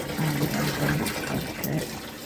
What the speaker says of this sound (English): I was pouring boiling water